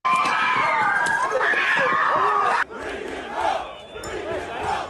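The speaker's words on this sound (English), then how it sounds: "This is the crowd outside of the church. A lot of these Assyrian Christians were very upset, and they were yelling out, "Bring him out, bring him out."" An angry crowd outside a church yells and shouts together, a loud, dense chorus of raised voices that drops sharply partway through and continues more distantly.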